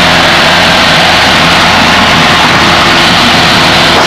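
A small training airplane's engine runs at full throttle for takeoff, a loud, steady, droning roar that holds without break throughout, dense and close with no talk over it.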